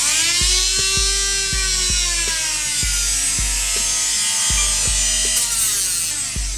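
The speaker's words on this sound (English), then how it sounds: "you can just use a Dremel to sand it down" Dremel rotary tool sanding a 3D-printed speed loader, a high steady whine that rises and falls in pitch, broken by repeated short scraping contacts in an uneven rhythm, close and loud.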